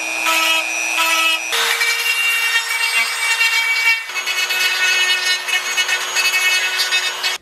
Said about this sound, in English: So I'm going to use the Dremel to clean up some of these more maldeformed spots.